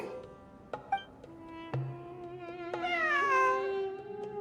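A cat in the video game Genshin Impact, during a Fieldwise Center ruins exploration story event, meows in a long drawn-out call that rises and bends, with a couple of shorter mews before it, clear against a soft backdrop.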